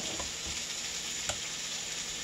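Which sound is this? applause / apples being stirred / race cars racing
apples being stirred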